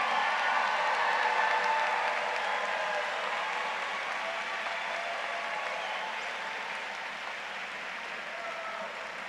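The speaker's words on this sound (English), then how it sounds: "Let's give all of our graduates a wonderful applause." A commencement crowd claps for graduates, a broad, sustained applause from a large audience that slowly tapers in loudness toward the end.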